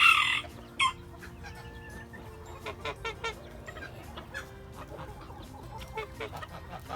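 Serama chickens on a farm in autumn, a loud crow at the start, then steady clucking and clucking calls from several birds nearby, with no talking.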